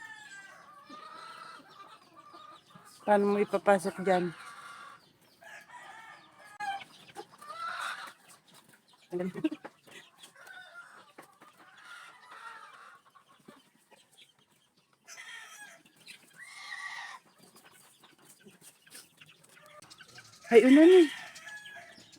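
Chickens and chicks cluck and squawk intermittently nearby in a fly pen, with soft peeping and short bursts of louder calls, while people talk briefly in between.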